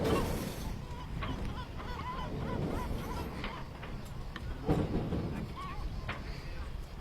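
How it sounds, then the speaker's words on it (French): Seagulls recorded from a boat cry in scattered, wavering calls over a constant wash of wave and wind noise, with a few sharper squawks rising near the middle. "Des bruits de mouettes."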